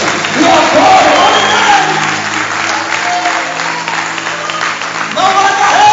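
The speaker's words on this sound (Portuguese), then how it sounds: "As palmas engrandecem e adoram." A church congregation claps and cheers with scattered shouts as a voice carries over the noise, a steady mass of applause rising again at the end.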